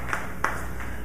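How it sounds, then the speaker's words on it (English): Scattered applause from a church service audience, a few distinct claps standing out over a steady low wash, brief and moderately distant. "Let's give her another round of applause."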